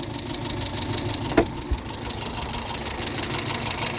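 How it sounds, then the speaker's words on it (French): A Renault Twingo engine idles at close range, a steady low rumble with faint knocking and two brief sharp knocks just before the two-second mark, no voices. "On voit que le ralenti déjà il est revenu un peu plus correct."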